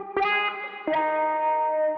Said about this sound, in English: put some reverb on it just to blend in with the other melodies